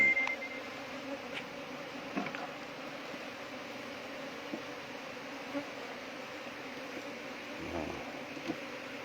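Bees buzz around a hive being harvested, a dense, continuous hum of many insects with a few single bees passing nearer, steady and fairly faint throughout.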